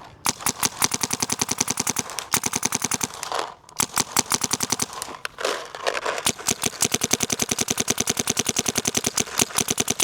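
An Infamous GEO R5 paintball marker fitted with an Infamous cam swap, fired outdoors in snowy cold weather in long rapid bursts of crisp, evenly spaced shots that break off briefly twice before resuming.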